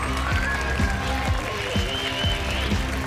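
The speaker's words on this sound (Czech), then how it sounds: "tady sklízí velký potlesk ještě předtím, než tančil" An audience applauds before a Latin showdance performance at a world showdance championship, with steady, dense clapping from a large crowd throughout and a faint announcer-like voice underneath.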